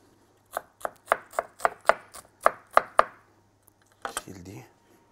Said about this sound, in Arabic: اقطع بصل كده صغير